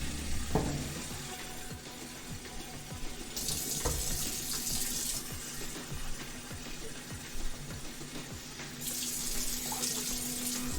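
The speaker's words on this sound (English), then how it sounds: "And then we need to add our water." Water runs steadily from a kitchen tap while cooking, a continuous hiss and splash that changes in force as the flow is adjusted, with faint clatter and sizzling in the background.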